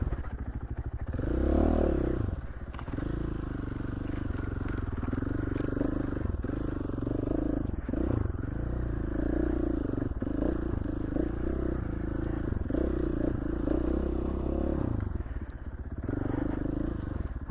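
KTM 450 dirt bike on steep Idaho trails, its engine droning and revving continuously throughout with clattering and scraping from the terrain, heard from close by.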